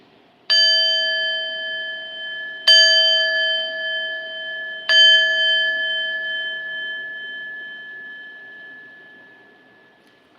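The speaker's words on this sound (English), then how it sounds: "Okay, chime it out." A bright metal chime is struck three times at even intervals, each clear ringing tone sustaining and slowly fading in an otherwise quiet room.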